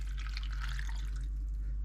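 A cup of water splashes and trickles into a cooking pan in a small kitchen, a short quiet pour fading out within two seconds.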